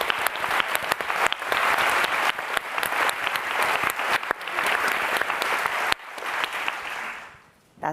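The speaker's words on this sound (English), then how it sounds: "we should give another round of applause to Nicole" A large audience claps at a New York Times 1619 Project event, dense sustained applause for Nicole that continues loudly before fading out near the end.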